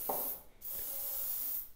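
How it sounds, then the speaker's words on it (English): Suspension cleaner sprayed into the fork tube of a Yamaha WR250F with KYB forks: two sustained aerosol hisses, close and steady, separated by a brief pause. "we take some suspension clean and we spray it"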